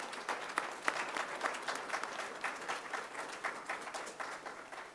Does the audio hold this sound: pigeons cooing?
no